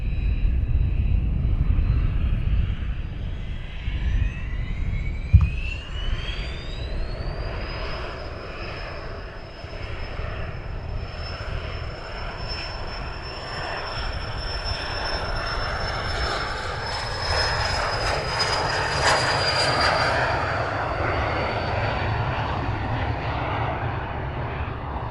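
Airliner departing Luton Airport, a loud sustained jet engine roar with a rising whine that climbs and then holds steady, continuing throughout without talk.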